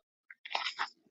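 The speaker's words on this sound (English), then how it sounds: "Grab some of the crunchy walnut." Close crunching as crunchy walnuts in a celery, fennel and apple salad with pecorino are bitten and chewed, one short bite followed by a brief burst of crisp chewing.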